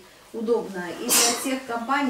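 A single sharp sneeze breaks into a lecturer's steady talk in a classroom, a brief close burst with speech continuing before and after it.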